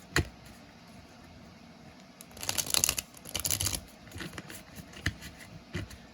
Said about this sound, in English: It's not really good for shuffling, like this.